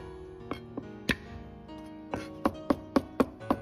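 Garlic cloves smashed and then chopped with a cleaver on a board, a few scattered sharp knocks followed by a quicker run of evenly spaced chops, close and crisp, with no talking.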